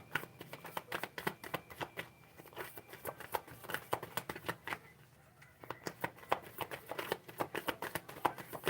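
A deck of oracle cards being shuffled by hand, with rapid soft riffling and slapping bursts close up and one brief pause in the middle.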